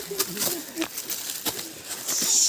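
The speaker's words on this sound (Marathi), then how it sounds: "सुंदर असं पक्ष्यांचा आवाज." A bird calls in a forest on a Bhimashankar trail, short repeated cooing notes heard fairly close amid outdoor noise and rustling, with people talking nearby.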